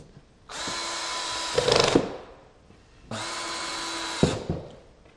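A power drill drives Kreg washer-head pocket hole screws into a soft door jamb during trim carpentry: two sustained whirring runs, each ending in a sharper strain as the screw seats.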